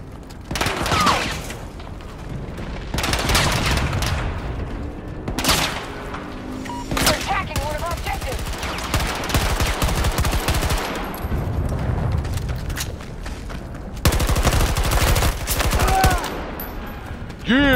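Dense video game gunfire from Battlefield 2042, with rapid automatic bursts and booms stacking up almost continuously and loud throughout.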